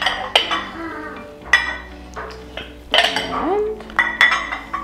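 Ceramic bowls set down on a dining table being staged clink and knock in a series of sharp, close hits, several distinct placements with ringing tones and soft shuffling between them, no voices.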